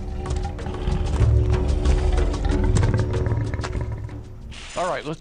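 A deep, rumbling roar from a reconstructed gorgonopsid, a Permian predator in a prehistoric documentary, rises loudly over a dense jungle ambience, followed by a sharp falling call near the end.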